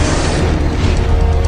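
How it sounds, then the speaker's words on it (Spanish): An iron meteorite impact explosion: a loud, dense, deep roaring rumble that fills the whole moment and sustains for about a second and a half without letting up. "La energía liberada rondaría los 20 megatones, el equivalente a una explosión de 20 millones de toneladas de TNT."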